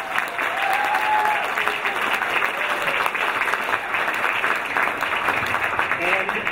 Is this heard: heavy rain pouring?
no